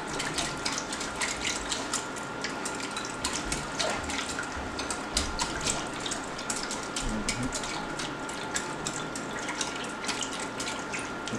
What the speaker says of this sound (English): I'm gonna wash one of these spoons